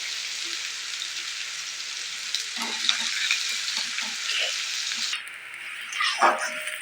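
Green chilies and onion sizzle and fry in hot oil, a steady bright crackle with occasional stirring scrapes and a sharper burst near the end, heard up close.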